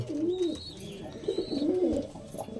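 Pigeons coo in a low, rolling, repeated call at close range, with faint higher chirps above and no talk.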